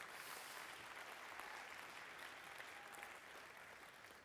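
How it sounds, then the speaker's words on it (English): Audience applause fills the room at the close of a talk, a steady dense clapping from many hands throughout, with no voices over it. "So please, a final round of applause for Sean."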